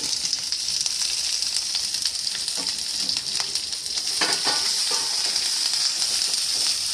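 Curry leaves, ginger and green chilli fry in oil for a lemon pickle, producing a loud, close, continuous sizzle with scattered crackles and stirring scrapes, no voices.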